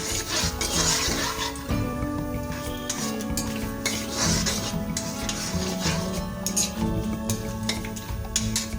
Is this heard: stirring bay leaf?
yes